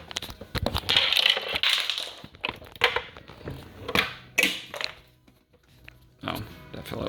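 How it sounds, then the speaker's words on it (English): Loose bolts rattle and clatter inside a Saturn S gen2 center arm rest as it is handled, giving irregular close-up knocks and scrapes in uneven bursts. "I got a couple of bolts in there, so that's what you hear."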